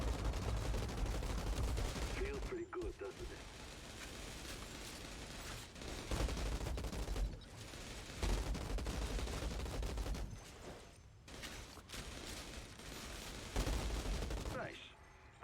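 Dense sidearm gunfire from the Outriders video game rattles almost without pause, loud, near and heavy, with rapid bursts and a few brief gaps.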